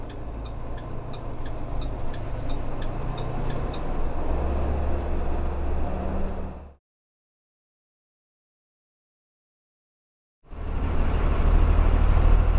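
A school bus engine drones steadily as it eases back onto the road with traffic around, the low rumble continuing for several seconds, cutting out abruptly, then returning.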